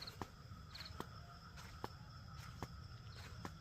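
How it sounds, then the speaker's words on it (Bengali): Crickets chirp at night near an ashram in Joydev Kenduli, West Bengal, faint and distant, with regular pulsing trills over a quiet background. "ঝিঝি পোকার ডাক"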